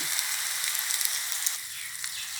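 Sea bass with tamarind sauce stir-fried over high heat in a pan, giving a loud, steady hissing sizzle with light crackles throughout, close up and with no talk.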